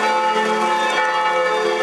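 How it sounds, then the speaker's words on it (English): Church bells in Prague ring out in a dense, continuous peal on a day of national mourning, loud and sustained with no voices. "a minute's silence was broken only by bells"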